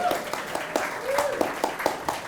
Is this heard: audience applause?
yes